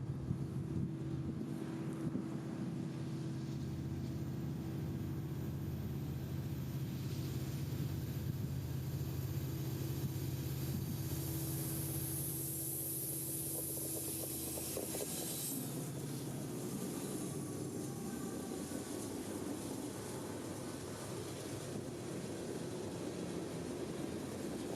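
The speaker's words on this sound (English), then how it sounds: "151, led by an END SD70 Ace, would bank the curve southbound with mixed freight for Valdosta in tow" A southbound mixed freight train led by an SD70ACE locomotive rounds a curve in Georgia, its low diesel engine drone steady and loud, then fading as rolling wagons and wind noise take over.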